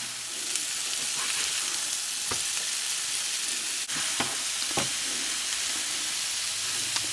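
Meat patties for Salisbury steak sizzle steadily in a hot frying pan, a constant crackling hiss with a few sharp pops and clicks.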